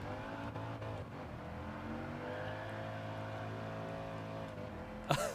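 A race car engine in Gran Turismo Sport drones steadily at high revs, its harmonics holding and shifting slightly, with a brief sharp burst near the end.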